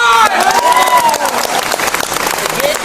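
A crowd at a company achievers' event breaks into loud, dense applause, a sustained wash of clapping with some cheering and a voice over the top.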